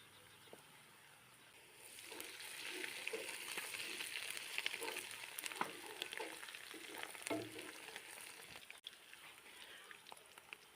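Onions, garlic and ginger sizzle and fry in hot oil in a pan for moringa chicken, a steady close crackling hiss that swells after a quiet start, with occasional stirring clatter.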